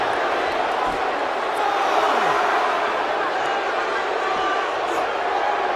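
Dense, steady arena crowd roar from a WWE 2K17 wrestling match video game, loud and continuous throughout, with faint swells of cheering.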